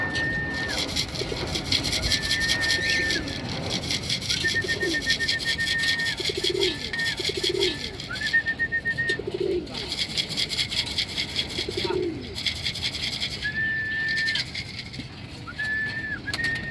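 Racing pigeons coo repeatedly at a club loft landing board, soft rolling coos recurring every couple of seconds amid a high steady tone and background noise, with someone talking in between.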